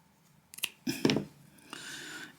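Scissors trim fabric for a raw edge applique piece, a few quick close snips in a row, fairly quiet and alone.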